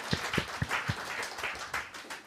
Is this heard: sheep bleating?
no